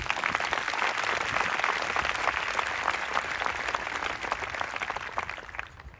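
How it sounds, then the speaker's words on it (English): An outdoor ceremony crowd on Australia Day applauds a Yidaki performance and dancers with sustained, dense clapping that holds steady for several seconds before slowly tapering off. "I think they deserve another round of applause"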